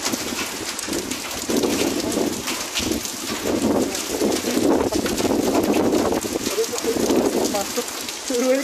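Hail pelts down outside an office building in Dammam, a dense continuous rattling hiss of ice striking surfaces, with someone speaking over it.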